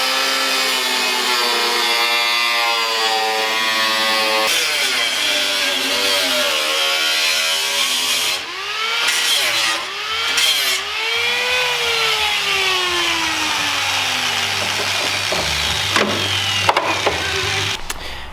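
A power tool cuts through the steel fender of a Mazda Miata being lifted, a loud continuous whine whose pitch sweeps up and down as the blade bites and eases, close by with no talking.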